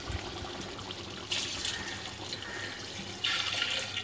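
Water pours steadily into a pot of chicken biryani, a soft continuous splashing stream that swells louder in two brief surges, fairly quiet and without talk.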